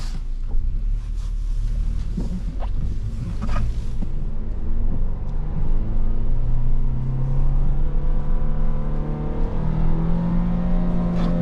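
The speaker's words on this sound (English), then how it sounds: "Let's see what the top speed is of the 22 Ford Bronco in this crawl gear" A 2022 Ford Bronco base model crawls through snow in crawl gear, its engine a loud, close rumble that climbs steadily in pitch as it speeds up, with wind noise and no talking.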